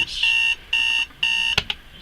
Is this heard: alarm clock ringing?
yes